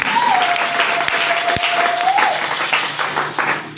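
A church congregation claps during a French-language service, a dense, steady wash of applause with a sustained whistling tone running over it.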